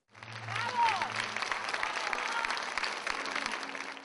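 Theatre audience applauding at the close of an Abkhaz theatre company's touring performance in Moscow, a dense, even wash of clapping from many hands that sounds fairly distant, with murmured voices mixed in.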